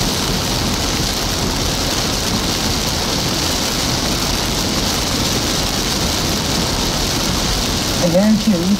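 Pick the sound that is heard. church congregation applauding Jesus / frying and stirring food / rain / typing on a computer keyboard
rain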